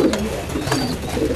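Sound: pigeons cooing

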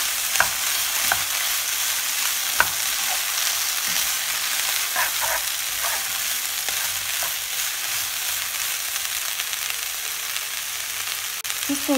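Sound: stir-frying noodles with asparagus in pan

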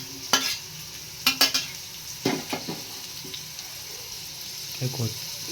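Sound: onions and green chillies frying in pan

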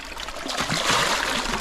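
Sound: water running into a bucket

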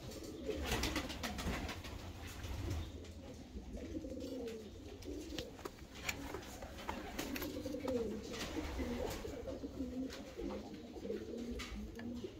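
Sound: pigeons cooing

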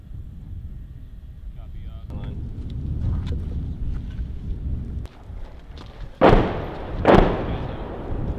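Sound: artillery firing during fire support coordination exercise

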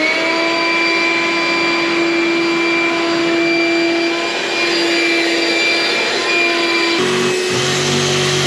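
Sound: vacuum cleaner running

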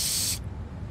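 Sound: spray painting graffiti tag in Tony Hawk's Underground 2 video game

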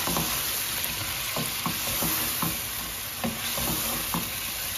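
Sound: curry with turmeric and chili frying in a pan

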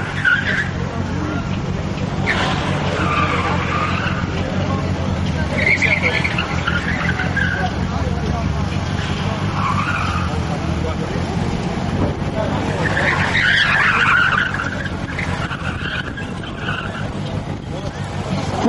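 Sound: Opel Vectra C 1.9 CDTI front-wheel-drive car drifting, tires skidding

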